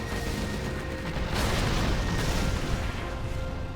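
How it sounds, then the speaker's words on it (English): Artillery shells and a mine drop in a desert-map tank mirror match of a real-time strategy game, heard as a dense, continuous rumble of distant booms and bursts that swells partway through and keeps rolling without pause. "Here comes a mine drop and the artillery."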